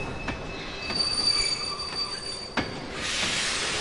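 A train in the Kingdom Hearts 2 video game screeches along, with metallic wheel squeal ringing steadily over rumbling rail noise and a sharp clank partway through, then a brighter hiss near the end, loud and with no voices.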